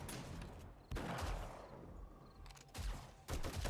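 Distant gunfire in 7 Days to Die, a few separate bursts of shots cracking faintly at irregular intervals against a quiet background.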